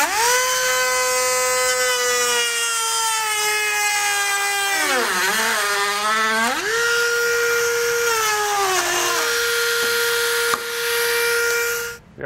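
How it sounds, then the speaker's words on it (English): A Dremel rotary tool cuts through a thin plastic shutter on a 2019 Ford Explorer, giving a loud, high whine that dips and rises in pitch as the bit bites and frees, then cuts off abruptly. "I'm going to use a Dremel tool to do that"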